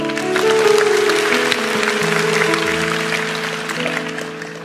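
A church congregation claps together in a steady, dense round of applause that holds for several seconds and then slowly fades, with sustained music chords underneath.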